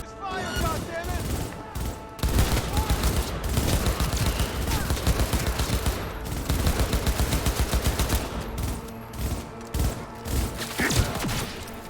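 A sustained firefight in Cyberpunk 2077: dense, continuous automatic gunfire with heavy repeated shots and booming impacts, loud and close throughout, with occasional shouted voices mixed in.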